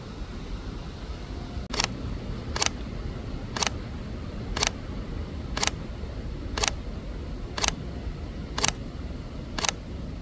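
Sony a6700 mirrorless camera firing a focus stacking sequence for a near-macro shot of a mushroom, giving nine crisp, evenly spaced shutter clicks about one second apart over a steady low background hum.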